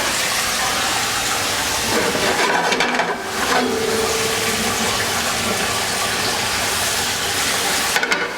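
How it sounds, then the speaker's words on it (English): Garlic butter shrimp with garlic powder sizzle steadily in a hot pan, a loud, even hiss broken by a few brief stirring bumps, with no speech. "Saute that up a little bit."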